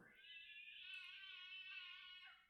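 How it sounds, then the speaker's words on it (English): A cat fighting another cat lets out a single drawn-out, wavering yowl of about two seconds, faint and in the background, with no talking. "there's my cat in the background fighting another cat"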